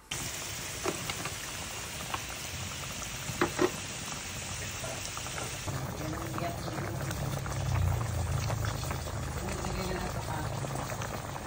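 Vinegar sauce for chicken lechon paksiw bubbling at a steady boil in a pot, a soft continuous simmering hiss with a few faint clicks, no talking.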